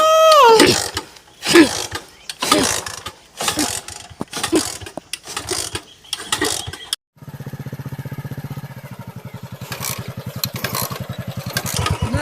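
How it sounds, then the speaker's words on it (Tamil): Motorcycle that refuses to start, with repeated mechanical cranking bursts in uneven rhythm for several seconds, then a steadier rattling engine-like churn that fails to settle into a clean idle; loud and close, with no talk. "வண்டிய ஏண்டி நீ ஸ்டார்ட் ஆக மாட்டேங்கிற?"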